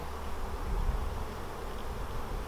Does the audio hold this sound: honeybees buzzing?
yes